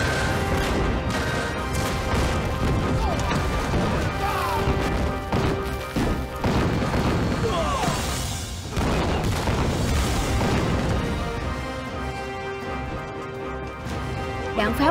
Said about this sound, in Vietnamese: Đạn pháo của chúng ta đúng là quá mạnh.